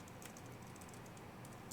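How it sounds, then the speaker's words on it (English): Fast, quiet keyboard typing with soft, continuous key clicks scattered throughout, set against a steady low background hum, with no voices present. "apologies for my bad slow typing"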